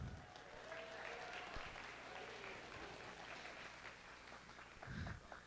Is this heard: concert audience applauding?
yes